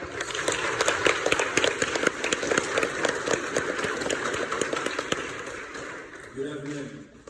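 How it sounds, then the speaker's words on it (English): An audience at a school commencement applauds in a steady, dense patter of many hands clapping, fading out near the end as a voice begins. "Let's give him a round of applause."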